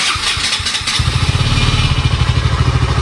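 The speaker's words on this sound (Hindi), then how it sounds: "पर बाइक स्टार्ट हो गई है" A KTM motorcycle engine turns over and catches about a second in, then settles into a loud, close, rapid thumping idle with no voices.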